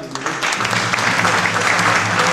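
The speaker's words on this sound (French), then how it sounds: "réservons une salle d'applaudissements pour la chorale des" A crowd breaks into dense, steady applause for a choir singing in honour of Cameroon's Indomptables Lions, swelling after a brief quieter opening and holding loud throughout, with faint tonal traces beneath.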